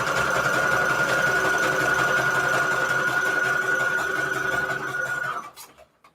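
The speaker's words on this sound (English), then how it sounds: "So I need to do zigzag stitch on the edge here." Sewing machine running a steady zigzag stitch along a paper edge, a fast, even, close mechanical whir that continues for several seconds and then stops abruptly.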